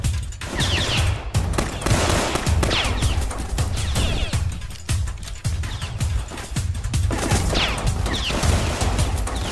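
Gunfire in a South Bronx Roblox hood roleplay game, with loud bursts of repeated shots and sharp cracks arriving in clusters across the whole stretch, some near and some further off.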